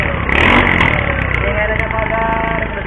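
An EasyRide 150n motorcycle with a DIY Kalkal exhaust pipe idling after a carburetor cleaning, a steady low, rough exhaust note that runs continuously and fairly loud, with a voice talking over it.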